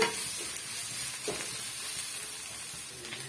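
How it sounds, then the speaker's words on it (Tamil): A steady, soft sizzle of ginger garlic paste sautéing in a pan, continuous and close, with faint stirring scrapes and no talking. "பச்சை வடை போகிற வரைக்கும் நல்லா வந்து வதக்கி விட்டுக்குங்க"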